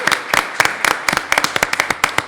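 A few people clap at the start of a Chilean football talk show, giving sharp, irregular close claps in quick bursts that speed up toward the end.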